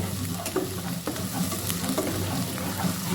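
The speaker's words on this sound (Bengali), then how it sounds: "মশলাগুলো ভালোভাবে ভেজে নিচ্ছি তেলের উপর" Ground onion, garlic and cumin spice paste fries in soybean and mustard oil, giving a continuous close sizzle with light stirring scrapes and no talking.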